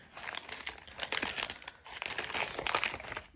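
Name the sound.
taking envelope out of pack of cards, paper crinkling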